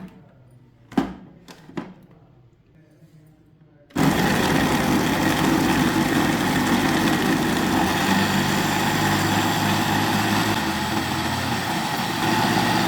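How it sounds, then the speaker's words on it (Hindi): A few soft knocks, then a blender starts abruptly and grinds guava with water continuously, a loud, steady whirring motor that runs to the end. "इसे ग्राइंड कर लेते हैं।"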